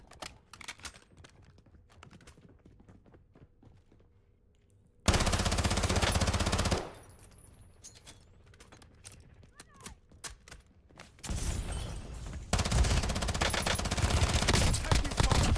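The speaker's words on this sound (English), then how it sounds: "Taking fire." Video game gunfire comes in two loud, sustained automatic bursts, separated by quieter stretches of scattered shots and clicks, with voices calling out between them.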